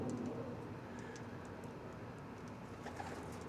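Racing pigeons in a loft give faint, soft cooing calls over a low, steady background hum.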